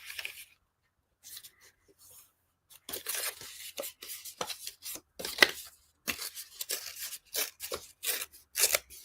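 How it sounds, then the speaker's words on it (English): Scissors snip through material being trimmed to size for a painting, a series of irregular crisp cuts and rustles, close and quiet, starting sparse and then coming in quicker bursts. "I need to cut it about right there"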